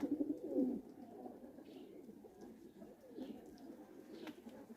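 Pigeons coo in low, soft repeated phrases, strongest in a brief burst near the start and then continuing steadily at a moderate distance, with a faint chirp or two above.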